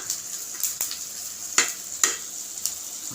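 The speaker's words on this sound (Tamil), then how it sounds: "வெங்காயம் தக்காளி எல்லாம் வதங்கிட்டுருக்கு" Onions and tomatoes sautéing in a pan for chicken curry: a quiet bed of sizzle is punctuated by several crisp scraping strokes of a spoon at irregular intervals, close by and without speech.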